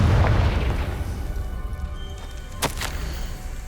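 A Confringo spell explosion in Hogwarts Legacy on Nintendo Switch, a deep booming blast that starts loud and rumbles away, followed by a sharp crackling burst near the end.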